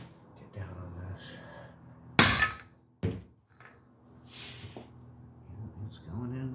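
A hammer, struck on its side, taps a Subaru wheel bearing into its hub by hand with no press: two sharp metallic impacts close by, with quiet talk and low shop noise between them.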